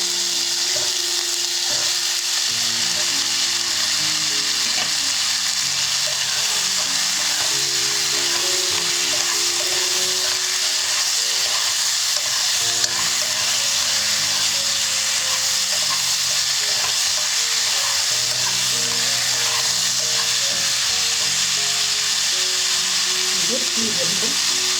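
Green peas frying in a pot give off a loud, continuous broadband sizzle that holds steady for about twenty-five seconds, with a low background hum running beneath it.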